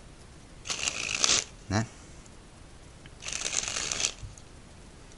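Playing cards sprung from one hand to the other, two bright riffling bursts about a second long each, close and crisp, with a short spoken word between them.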